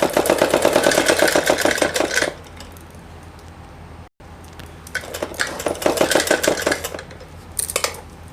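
A sewing machine stitches a long seam along salwar fabric, two close, rapid rattling bursts of stitching separated by a quiet pause of a few seconds.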